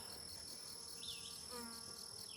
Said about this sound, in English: See, there's a bee down here.